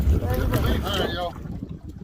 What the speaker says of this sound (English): Sorry if it's windy. It is a windy day out here.